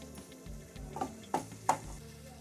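Mushroom stuffing for momos is stirred in a pan, with three or four light spatula scrapes and taps against the metal over a faint, steady background hiss.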